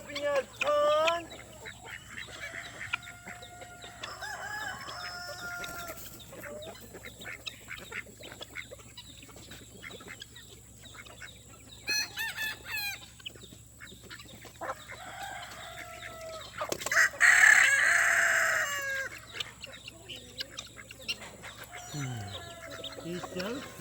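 Backyard homestead chickens cluck and crow close by, with short bursts and a louder crow near the end, while ducks sound and a person talks softly in between.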